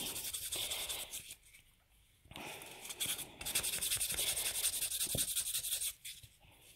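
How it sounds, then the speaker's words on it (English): A nail buffer rubs back and forth over a fingernail in quiet, close, scratchy strokes of varying length, with brief pauses and no talking. "And we get our buffer, and you buff over the nail."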